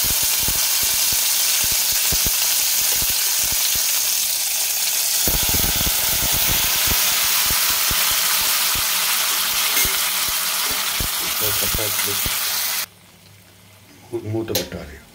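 Ingredients for tomato chutney frying in hot oil, a loud continuous sizzle and crackle with occasional stirring clatter, before the sizzle drops away near the end.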